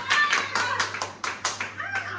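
Hands clap in a quick, fairly even rhythm as people applaud a birthday gift being opened at a party, close by and lively.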